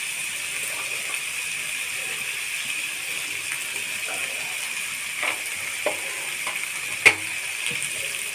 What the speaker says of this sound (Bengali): দিয়ে আমি ভালোভাবে নেড়ে চেড়ে এটা ভেজে নেব